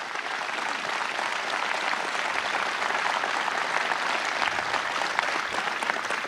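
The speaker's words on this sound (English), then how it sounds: "Let's give all of our law enforcement officers a round of applause." A crowd applauds law enforcement officers at a political event in Pennsylvania, a thick continuous clapping that stays level throughout with no speech over it.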